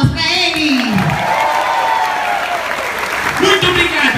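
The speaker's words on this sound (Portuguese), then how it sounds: "Então, uma salva de palmas pra ele!" A circus audience at the Circo dos Sonhos applauds a Brazilian circus artist, with loud clapping and some cheering under an excited presenter talking over the crowd.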